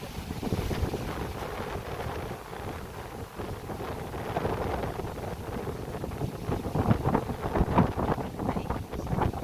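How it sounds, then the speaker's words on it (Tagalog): Strong wind blows at a resort in Coron, Palawan, a steady, loud rush of gusty buffeting across the microphone that swells and eases without a break. "Diba nakita nyo na mahangin?"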